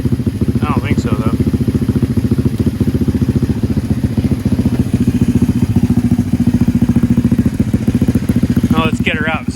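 A scooter engine idles steadily close by, a continuous low throbbing pulse that holds through the whole stretch, with a voice speaking briefly near the start and again at the end.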